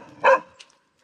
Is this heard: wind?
no